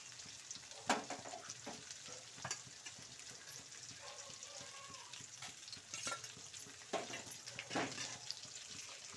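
Amla (Indian gooseberry) pieces roasting in a pan with spice powder for pickle give a steady, quiet sizzle and frying crackle, with occasional sharp clicks of stirring against the pan throughout.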